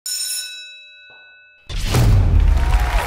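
A game show buzzer bell gives one clear ringing ding that fades out, then a loud, dense burst of studio noise and music takes over.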